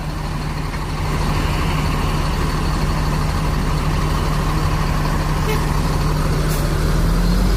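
A new NPM intercity bus departs with a loud, steady engine drone and a constant low hum that holds evenly throughout, with no talk.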